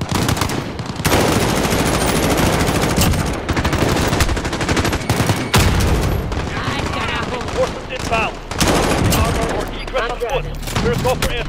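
Rapid bursts of automatic gunfire crackle through a Call of Duty Modern Warfare battle, dense and continuous with sharp individual shots and brief lulls, while voices call out over the shooting.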